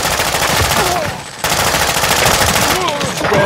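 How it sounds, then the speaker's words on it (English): Gunfire in a hallway fight in the Call of Duty DMZ video game: loud, rapid automatic bursts fire almost continuously, pausing briefly once before resuming just as hard. "You are taking effective fire."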